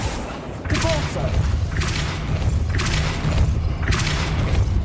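Depulso force-push spell blasts in the Hogwarts Legacy video game, landing as four evenly spaced booming thumps with a rushing burst, over a low rumbling background.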